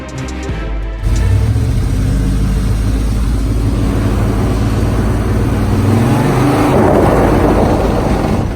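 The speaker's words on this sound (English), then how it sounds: "we're gonna put it in 5 low again, full RPM'd up the clutch, and see what kind of traction we get on gravel" A 1979 Ford F250 on 12-inch spacers and 24-inch wide slicks revs to full RPM on gravel in 5 low, a loud, close engine roar that jumps up after a second and holds high and droning, rising slightly near the end.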